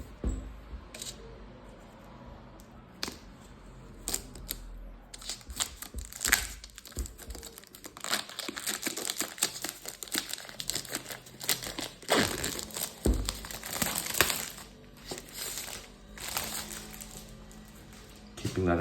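Helmet intercom packaging being cut and opened with small pink kitchen scissors: close, busy crinkling, snipping and rustling of cardboard and plastic, continuous with sharp clicks and handling noises throughout.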